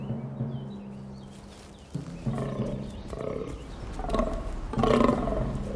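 Fallow deer stags call during the autumn rut in the Carpathian mountains of Slovakia, with repeated deep, rough groaning belches rising over a low steady background, growing louder toward the end.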